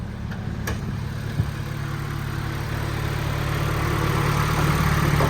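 A turbocharged D-series Honda Civic race car engine idles steadily nearby, a continuous low hum with an even, unchanging tone throughout.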